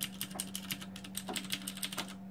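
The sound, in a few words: key presses on CODE 61-key WASD mechanical keyboard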